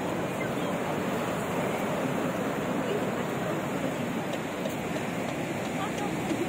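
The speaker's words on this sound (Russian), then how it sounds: "Посмотрите на это море. Такие волны." Sea waves wash over a pier in Odessa on an October evening, a continuous loud roar of surf mixed with wind buffeting the microphone, with a voice speaking over it.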